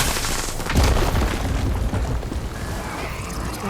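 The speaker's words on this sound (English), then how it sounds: "If you shoot these, they blow up." In Horizon Forbidden West, explosive objects blow up after being shot, a loud booming blast around the first second with rumbling, crackling debris trailing off afterward, game ambience continuing beneath.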